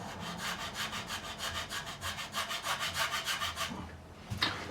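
Sharp nut files cut the string slots of a Harley Benton SC550 II guitar nut in a steady back-and-forth rhythm, roughly two strokes a second, close and fairly loud, then stop with a brief clatter at the end.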